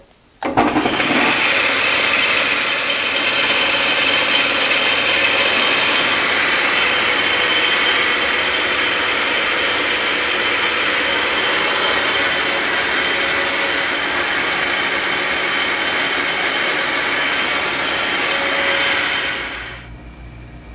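A South Bend 11 lathe turning a spindle stop runs with a steady mechanical whine and rattling gear drive for about twenty seconds, loud and close, before spinning down at the end.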